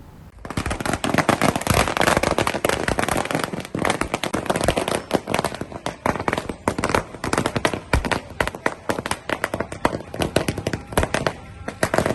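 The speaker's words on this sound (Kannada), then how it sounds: "ಬಿಜೆಪಿ ಮುಖಂಡರು ಕಾರ್ಯಕರ್ತರು ಪಟಾಕಿ ಸಿಡಿಸಿ ಸಂಭ್ರಮವನ್ನು ಆಚರಿಸಿದರು" BJP leaders and workers in Bhatkal set off firecrackers to celebrate an election win: a loud, nearly continuous string of rapid cracking bursts that rattles on for over ten seconds.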